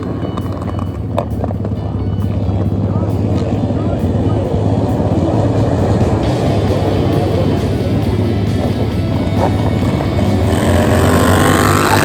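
Flat track motorcycles in a Super Hooligan class race roar past in a loud, continuous engine blare that swells toward the end, with a voice talking over the racket.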